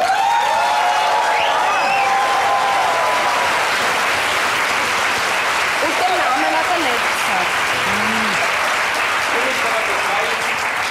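Audience applause in a cabaret comedy show on stage, a steady dense wash of clapping lasting throughout, loud and close, with faint voices over it.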